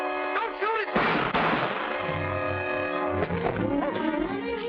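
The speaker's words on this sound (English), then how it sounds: "Gunshots!" Gunfire in a 1940s film scene: a few sharp shots crack amid tense dialogue and dramatic orchestral music, with voices speaking around them.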